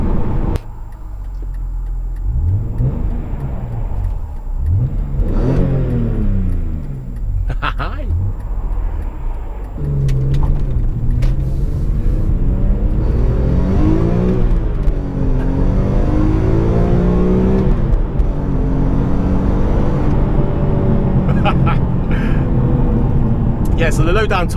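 A 2004 BMW E46 M3 with a naturally aspirated, high-revving engine climbs through repeated rising revs under acceleration with gear-change dips, loud and close from inside the car, and someone talks over parts of it.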